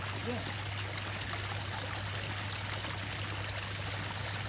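A continuous rush of a creek running unusually high as it flows into a pond, steady and moderately loud, with a faint low hum underneath.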